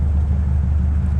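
An old hot rod with straight-through mufflers idles close by, a deep, steady low rumble with an even pulsing throb and no revving.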